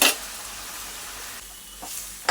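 Boiling water from a pressure cooker tipped into a cooking pan of banana flower, a short rushing splash with a sizzling hiss that settles, then a faint stir.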